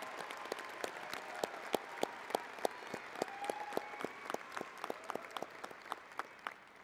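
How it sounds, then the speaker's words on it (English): Applause for graduating students at a fall commencement ceremony, a faint, thinning round of individual claps with sharp distinct hand strikes, sparse and somewhat distant. "A round of applause for these great students"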